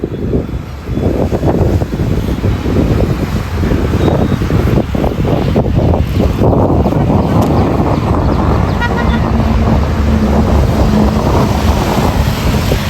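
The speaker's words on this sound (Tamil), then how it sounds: "என்ன சூறாவளி மாதிரி அடிக்குங்க காற்று" Strong, cyclone-like wind roars steadily and loudly in Gujarat, buffeting the microphone with constant gusty noise throughout.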